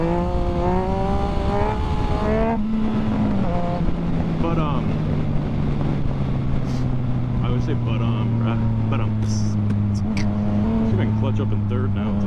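A Yamaha FZ-09 motorcycle with a 15-tooth sprocket upgrade pulls in third gear. The loud engine note climbs, then settles into a long, slowly sagging drone under heavy wind buffeting, heard close from the rider's position.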